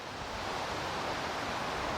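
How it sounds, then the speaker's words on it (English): Steady broadband wind noise rushing continuously, loud and close, with no voices, on a farm on a windy morning. "Today is a windy morning."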